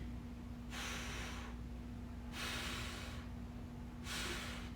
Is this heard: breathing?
yes